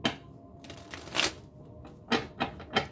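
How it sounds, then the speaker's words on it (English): A deck of tarot cards is shuffled in quick riffling bursts, several short papery flurries spaced a fraction of a second apart, close and fairly quiet. "We're going to shuffle this"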